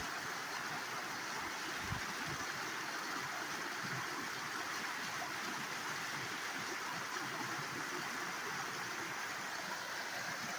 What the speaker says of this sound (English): The sound of a healthy rain sweep.